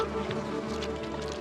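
Honey bees buzz steadily around a wild hive while a honey badger raids it for honey, a dense continuous drone with no voices.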